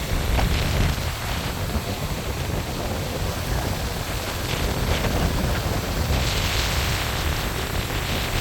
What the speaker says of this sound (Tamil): நல்ல காற்றடிக்குது இப்போ.